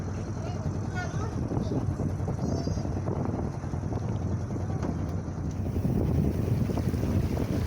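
A light breeze rushes over open lagoon water with a low, steady buffeting and a soft boat hum; faint voices sit underneath.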